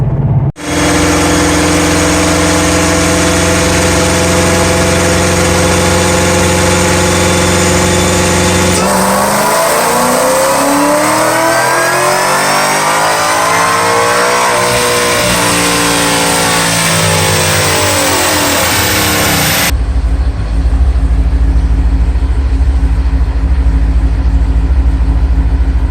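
An 800 hp Coyote Mustang with a Paxton 2200 supercharger roars loud and steady on a dyno, its engine holding a sustained high-rpm pull, sweeping through the rev range midway, then dropping to a deep rumbling idle near the end.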